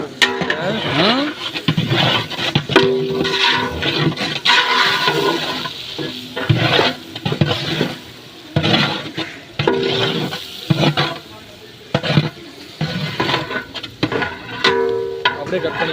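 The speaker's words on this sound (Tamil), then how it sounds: "வெங்காயம் பொன்னிறமாக வதங்கணுமா?" Onions sautéing in a pan toward golden brown for Madurai-style mutton chukka, with steady sizzle broken by loud scraping stirs and clatter, close and busy throughout.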